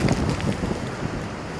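Strong gusts of wind from Storm Chandra roar and buffet the microphone in a brief, loud, continuous rush of wind noise.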